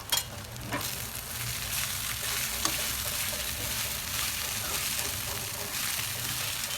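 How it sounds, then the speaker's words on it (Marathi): Poha being stirred into cooked potatoes in a hot pan gives a steady soft sizzle with scraping stir sounds, fairly close and even throughout. "आता त्याच्यामध्ये पोहे टाकून घेऊ चांगलं मिक्स करून घेऊ"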